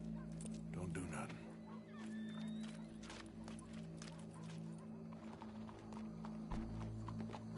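Steady clip-clop of horse hooves walking in the video game Red Dead Redemption 2, close by over a constant background hum, with a faint voice briefly present.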